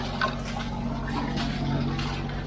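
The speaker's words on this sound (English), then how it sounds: "There's the water spilling out somewhere." Steady gush of water spilling from the generator cooling outlet on a family catamaran, a continuous splashing under the low, even hum of the running generator, fairly close and moderately loud.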